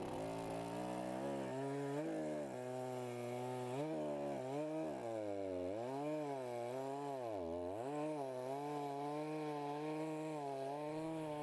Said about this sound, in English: The powerful chainsaw will quickly cut each piece to size